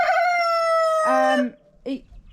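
A rooster crows loudly and close in a barnyard chicken pen, one long drawn-out call that breaks into a rougher ending, followed by a short squawk.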